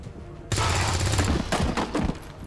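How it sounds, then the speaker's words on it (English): Gunfire in the XCOM 2 video game, a sudden loud burst of rapid automatic shots followed by a second shorter volley, close and harsh. "try and shoot him"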